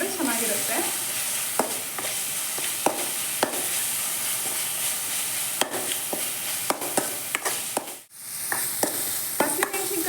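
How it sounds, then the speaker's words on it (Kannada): Ground green chili paste frying in hot oil, a continuous close sizzle broken by repeated scraping clicks of a spoon stirring the pan, with one brief pause near the end. "ಎಣ್ಣೆನಲ್ಲಿ ಫ್ರೈ ಮಾಡಿಕೊಂಡ್ರೆ ಚೆನ್ನಾಗಿರುತ್ತೆ."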